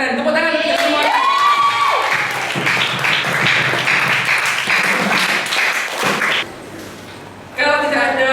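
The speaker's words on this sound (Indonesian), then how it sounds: "Tepuk tangan untuk semua." Classroom of students clapping and cheering loudly together after a teacher's praise, a dense burst of hands and excited children's shouts, with a teacher's voice before it and a brief pause near the end.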